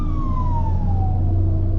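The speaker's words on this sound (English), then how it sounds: "oh, looks like there's an ambulance. Hold on, this might be loud." A loud siren drones nearby with a descending pitch over heavy engine rumble, sounding like an emergency vehicle going past.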